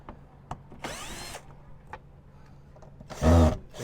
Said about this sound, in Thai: ใช้ไขควงหรือสว่านนะครับผม ไขออกไปเลยนะครับผม